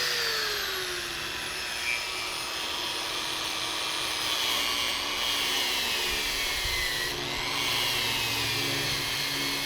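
A WEN 1/2 x 18 inch belt sander runs at a lower speed setting, its motor tone sliding down at the start and then settling into a steady, moderately loud whir with slight wavering in pitch.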